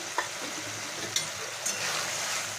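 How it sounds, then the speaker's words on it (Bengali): Fried potatoes dropped into a pan of well-cooked spice paste for pumpkin curry, giving a steady close sizzle with a few sharp clinks and stirring scrapes. "মশলাটা আমার কষা হয়ে গেছে এবারে ভেজে রাখা আলুটা আমি দিয়ে দিলাম"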